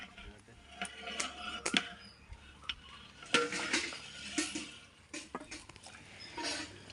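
A metal lid set onto a biryani cooking pot, with a few light clinks and knocks of metal against metal, close and faint, and a person talking nearby.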